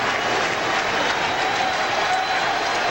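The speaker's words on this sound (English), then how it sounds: "Crowd really into it now." A baseball stadium crowd at a Phillies game in St. Louis cheering and applauding in a dense, steady roar, loud and sustained with no talk over it.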